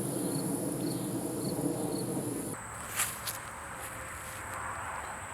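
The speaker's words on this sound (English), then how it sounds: "There's still a bunch of them swarming around outside" A swarm of wild bees outdoors gives a steady, faint, high buzzing drone with a brief rustle partway through and no talking.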